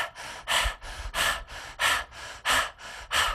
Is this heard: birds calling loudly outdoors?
no